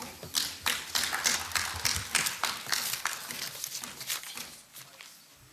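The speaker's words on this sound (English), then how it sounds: "Can we give him another clap?" Members of a parliamentary assembly applaud in a chamber, a dense burst of many hands clapping that swells and then slowly thins out toward the end.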